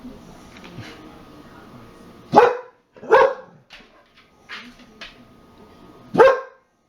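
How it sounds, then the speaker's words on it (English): A British Bull Terrier rescue dog barks in a few loud, sharp bursts spaced a second or so apart, with softer yips between them, close by and with no talking over it. "We also got a rescue dog a few months ago, British Bull Terrier we picked up in Virginia."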